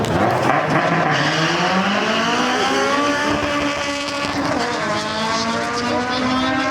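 A bolt-on Honda RSX races against an American car, engines revving hard through rising gear pulls with tire noise, loud and close, with voices faintly underneath.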